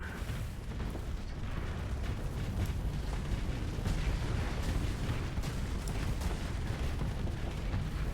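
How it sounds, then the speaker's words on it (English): Space battle explosion from an antimatter blast of a destroyed fuel tanker in Starsector, heard as a dense, steady low rumble with scattered bursts and crackles throughout. "You'd think an antimatter explosion in space would be a little bit bigger"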